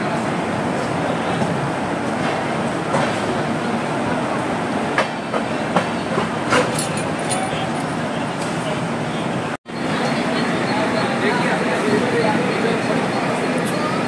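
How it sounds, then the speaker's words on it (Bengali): A train pulls into Kalyan Junction station on a Kolkata-to-Mumbai journey, heard from on board. A loud, continuous rumble and rattle of the carriages fills the whole stretch, with a brief sharp dropout near the end. "সন্ধে 6:50 নাগাদ ট্রেন কল্যাণ জংশন স্টেশনে এসে পৌঁছল।"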